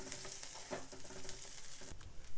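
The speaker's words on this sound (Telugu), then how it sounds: "సన్నగా కట్ చేసిన పచ్చిమిర్చి ఒక 2 వేసుకున్నాను, మనం తినే కాడాన్ని బట్టి వేసుకోవచ్చు. ఇవి కూడా కొంచెం వేగనివ్వాలి." Thinly sliced green chillies fry in a pan, giving a faint, steady sizzle with light crackling and occasional soft stirring clicks, with no talking.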